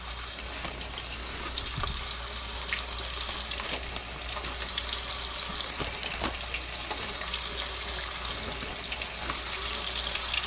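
Burbot fish nuggets fry steadily in a pan, giving a continuous bright sizzle and crackle with occasional sharper pops, close and loud, with no talking.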